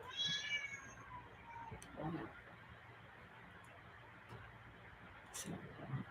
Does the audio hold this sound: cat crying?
yes